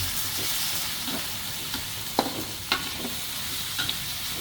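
Small shrimp sizzle in a frying pan with garlic chives as a utensil stirs them, a continuous soft frying hiss broken by a few sharp scraping clacks of the spatula against the pan.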